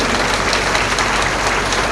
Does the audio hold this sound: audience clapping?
yes